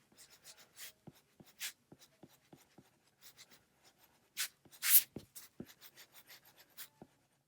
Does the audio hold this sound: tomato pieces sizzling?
no